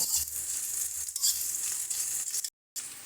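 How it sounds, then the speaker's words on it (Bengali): Eggplant stir-fried in a pan until soft and reddened, a continuous moderate sizzle with occasional stirring scrapes, broken by a brief silent gap near the end. "বেগুনটাকে কিন্তু নাড়তে নাড়তে ভালো মতো নরম হয়ে গেছে"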